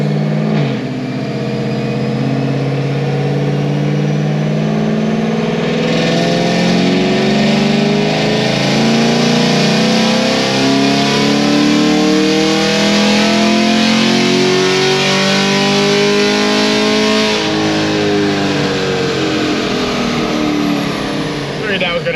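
A car engine fitted with an aftermarket cam and headers revs hard on a dyno, one long continuous loud pull climbing steadily in pitch before easing off near the end.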